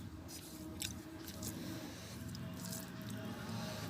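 Someone eating cooked bottle gourd and helencha greens in a village home, with soft, wet chewing and squishing close to the mouth, steady and continuous over a low background hum, no talking.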